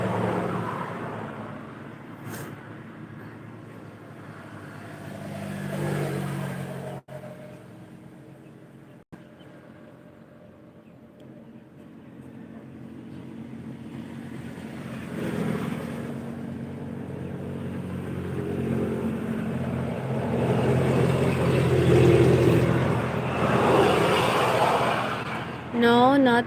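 Steady traffic noise from a busy road just beside a house, with vehicles swelling and fading as they pass, a continuous rumbling wash under and around a voice.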